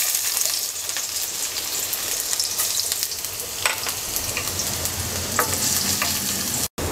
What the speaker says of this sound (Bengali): রসুনটাকে হালকা ব্রাউন কালার করে ভেজে নেব।